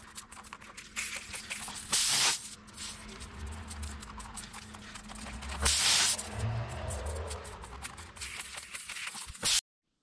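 Air hisses in sharp, loud bursts from a punctured tire on a 2022 Honda Ridgeline pickup, between softer patches of rustling and handling noise. It stops abruptly at the end, with no talking.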